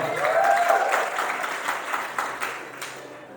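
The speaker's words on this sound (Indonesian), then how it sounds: "Tepuk tangan dong buat Tuhan." A church congregation claps in praise at a worship service, a brief burst of applause that fades into scattered claps, with faint voices underneath.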